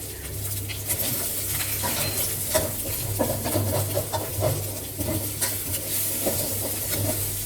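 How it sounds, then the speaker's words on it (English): An egg frying in a pan while Thai fried rice is cooked, a steady soft sizzle with light scraping and stirring clinks scattered throughout, close and fairly quiet. "Break the egg up a little and let it fry until firm."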